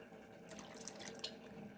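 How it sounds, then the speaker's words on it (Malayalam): Cold water poured from a container onto papaya pieces in a blender jar for juice, a steady faint splashing trickle close by with no voices. "ഇതിലേക്ക് ആവശ്യത്തിന് വെള്ളം ഒഴിച്ചു കൊടുക്കുക."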